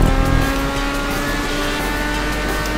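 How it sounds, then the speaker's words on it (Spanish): Formula 1 style race car in GTA V Online with turbo boost engaged, a loud steady engine drone held close and continuous throughout, with no voices. "le he metido ahí el turbo"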